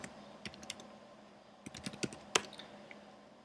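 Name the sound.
typing a terminal command on a computer keyboard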